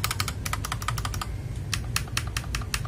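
An old mechanical keyboard clatters as keys are typed in rapid, uneven bursts with a brief pause midway, each rattling keystroke crisp and close against a low background hum.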